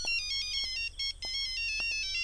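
A mobile phone ringtone plays a bright, repeating electronic melody, several quick rhythmic phrases in a row, clear and close with no voices over it.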